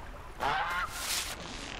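A goose in Horizon Zero Dawn gives one short, nasal honking call that rises briefly and fades over steady game ambience, with no talking.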